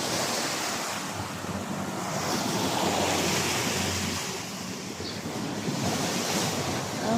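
Sea waves wash continuously onto a resort beach, a broad steady surf roar with gentle swells in loudness and some wind buffeting the microphone.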